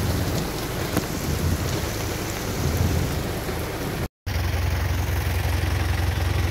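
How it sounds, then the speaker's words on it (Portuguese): Heavy rain with thunder in Aquiraz, Brazil, pours steadily in a dense, continuous roar with deep rumbling underneath, briefly cut off once, then resuming just as loud. "Muita chuva no Aquiraz"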